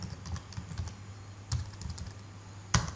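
Quiet computer keyboard being typed on, with soft irregular keystroke clicks in short bursts and a few louder taps, close up with no talk.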